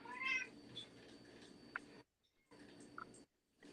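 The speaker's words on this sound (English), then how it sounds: "yes, that's our old cat" An old pet cat meows a couple of times indoors, short high cries standing out over a steady room noise, with brief gaps of near silence between.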